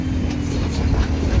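A train rolls past on a railway track close by, giving a steady, loud rumble with faint rhythmic wheel clatter and a low hum throughout.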